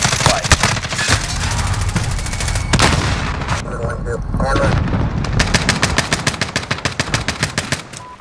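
Heavy automatic gunfire in a Call of Duty: Modern Warfare domination match on the Gun Runner map, with dense, loud bursts and rattling volleys running throughout and a rapid, evenly spaced string of shots at the end.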